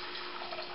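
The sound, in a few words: water poured into a cooking pot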